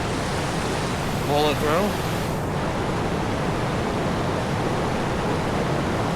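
Steady broadband rush of the Laurel River flowing near a hot spring in North Carolina, continuous and fairly loud throughout, with a brief spoken voice over it early on.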